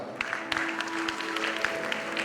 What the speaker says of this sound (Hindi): एक तालियां उनके लिए